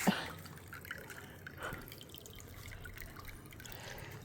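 Steady trickling and dripping water from a bubbling birdbath fountain, a soft continuous burble close by with small splashes, no voices.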